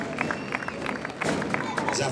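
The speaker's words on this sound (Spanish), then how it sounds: "¡Venga, fuerte aplauso para él!" A crowd at a street festival applauds and cheers for Cristian in a brief, noisy burst of clapping, with voices and general hubbub mixed in.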